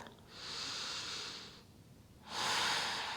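Close, airy yoga breaths during a twisting pose in an evening relaxation flow: one long exhale followed by a pause, then a stronger inhale, with no talking.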